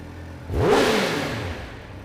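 A 2021 Triumph Speed Triple 1200 RS motorcycle engine gives one quick, loud rev with intake roar that swells suddenly, then settles into a lower rumble.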